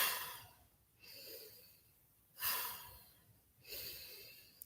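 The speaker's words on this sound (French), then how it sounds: "Et sur l'expire, vous relâchez." Slow breathing accompanies shoulder circles in a brisk kundalini yoga session on an outdoor terrace. Three soft breath cycles swell and fade, faint and close, with no speech.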